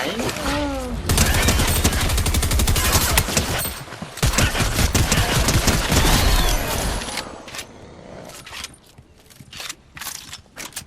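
Rapid, loud automatic gunfire in the video game Fortnite, a dense burst lasting several seconds before thinning into scattered shots and footsteps, with a player's voice talking over it.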